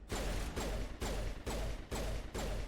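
Rapid gunfire fills a Mass Effect firefight, loud and sustained, in five or six bursts separated by brief gaps, with heavy low rumble beneath.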